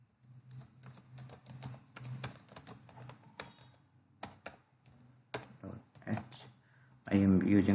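Fingers type code on a computer keyboard in quick irregular bursts of clicking keystrokes with short pauses between, close and fairly soft, followed at the end by a brief loud burst of another sound.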